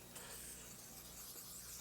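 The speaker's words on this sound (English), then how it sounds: "Spray them pan real good with that" Pam cooking spray hissing onto a pan in one continuous, fairly soft spray lasting under two seconds, with no voices.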